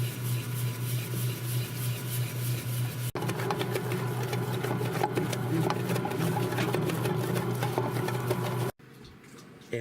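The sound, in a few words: bread machine kneading whole wheat pizza dough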